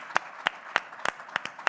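Sparse, isolated hand claps ring out one at a time at a loose, uneven pace, about eight crisp slaps in quick succession, with no voices over them.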